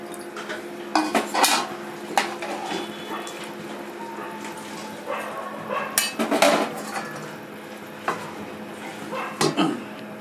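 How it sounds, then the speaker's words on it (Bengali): Shrimp go into a pot of cucumber curry and the lid goes on, with several metallic clanks and scrapes of utensils and pot in uneven bursts against a quiet kitchen background. "আমি চিংড়ি মাছ কটা দিয়ে দিচ্ছি এখন দিয়ে ঢাকা দিয়ে দেবো"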